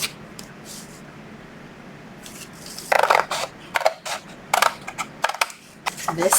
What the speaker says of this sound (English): I'm gonna cut the piece that I don't need.